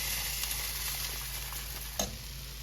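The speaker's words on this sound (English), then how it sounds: "And then I'm gonna add the orzo to the pot." Steady loud sizzling of orzo added to a hot pot of softening onion, garlic and oregano, with a brief clatter about two seconds in.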